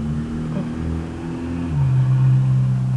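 A car engine drones steadily nearby, its tone shifting lower partway through as the vehicle passes and changes pitch, with a constant low hum and no one speaking.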